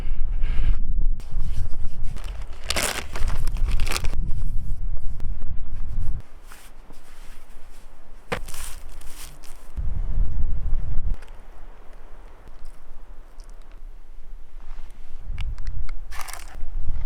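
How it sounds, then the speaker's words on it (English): Gusty wind at a Pharaoh Creek campsite on a Banff backcountry trail buffets the microphone in strong, uneven rushes and low rumbles, easing briefly between gusts. "Getting a little windy here."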